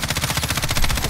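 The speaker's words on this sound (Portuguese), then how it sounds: "Eu vou atirar aqui com ela." A rapid, loud burst of automatic assault rifle fire in the Warzone video game, fired without an attachment on the sight, with shots cracking in a fast, even rhythm throughout and no talking.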